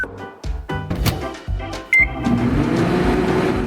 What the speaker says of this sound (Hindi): और अब इसे माइक्रोवेव में रख देता हूँ और थोड़ा इंतजार करना होगा